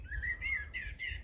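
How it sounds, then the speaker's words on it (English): A blackbird singing from a nearby tree fork in a fen, clear fluting phrases repeating in quick succession over a low rumble of wind. "can you hear that song? That is a blackbird."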